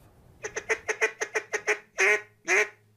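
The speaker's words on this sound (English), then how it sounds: "making the duck calls that bring ducks in" A handmade duck call blown in a craftsman's shop in Louisiana gives a quick run of about nine short quacking notes, then two longer, louder drawn-out calls, close and clear with no talking.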